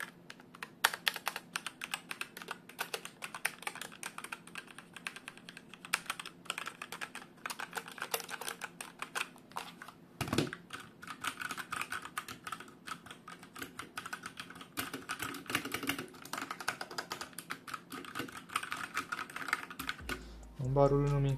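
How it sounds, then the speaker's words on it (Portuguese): A HAVIT mechanical keyboard with red switches is typed on at a quick, uneven pace, dense close clicking keystrokes filling the whole stretch, with a brief louder knock near the end. "Esse aqui é o barulho do switch head."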